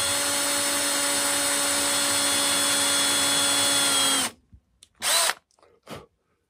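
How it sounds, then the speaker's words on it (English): A power drill whines loudly and steadily for about four seconds while boring a hole for a 1/4 inch dowel in a walking stick's ball top, then stops and gives two short bursts. "So I'm going to drill that out a little bit"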